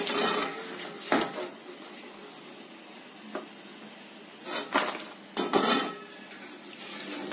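Fried wheat-flour nimki pieces are moved onto a plate in a quiet kitchen, giving a few sharp clinks and scrapes of metal utensil against dish, spaced out with near silence between.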